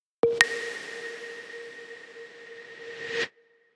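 An electronic ping tone opens a reverb send processed by an automated OTT compressor, and the washy tail swells back up in level before cutting off abruptly.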